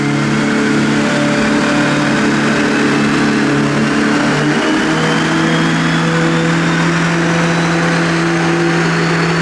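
An Ibexx Turbo Pro R car engine holds a loud, steady high-rev drone on a dyno, with tones shifting near the midpoint as the run continues, with no talk over it.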